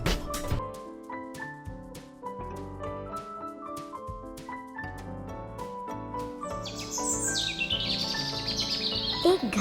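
Cartoon birds chirping in a forest, a series of bright, tuneful tweets and calls that repeat over a musical background, with a rising flourish near the end.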